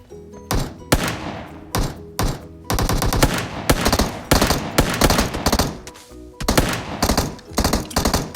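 Rapid gunfire in the mobile battle-royale game PUBG Mobile, bursts of automatic shots and single cracks in uneven clusters with short gaps, loud and close, with no talking over it.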